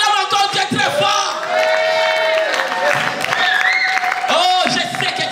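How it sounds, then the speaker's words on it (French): A church congregation cheers and shouts loudly in acclamation of God, a dense near roar of voices with whoops rising over a steady crowd noise. "Oh, acclame encore Dieu très fort."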